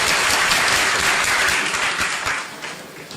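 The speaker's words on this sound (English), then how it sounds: "give your host a round of applause" An audience at a presentation gives the host a round of applause, loud sustained clapping that fills the hall and gradually thins and fades toward the end.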